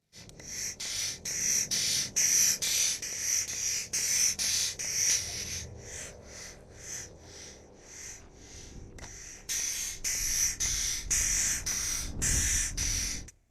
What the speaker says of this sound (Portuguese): Dá para ouvir a pressão do escapamento.